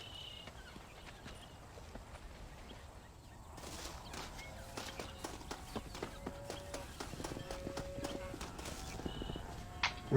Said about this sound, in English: Vamos então montar aqui o cavalo